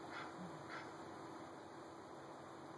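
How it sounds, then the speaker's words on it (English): A dog barks a few short, faint times early on, playing within a video, over a steady high electronic hum. "then a dog starts to bark"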